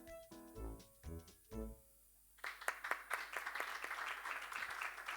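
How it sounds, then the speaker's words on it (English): An audience at a panel on interfaith cooperation breaks into a round of applause, with dense, moderately loud clapping that follows a few seconds of other sound and carries on to the end. "That does, in fact, deserve a round of applause."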